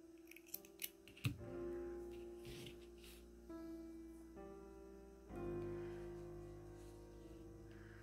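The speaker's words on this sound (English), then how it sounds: "So you need to trim the yarn." Scissors snip through crochet yarn with a few quick, sharp cuts near the start, followed by quieter rustling and handling in a calm room.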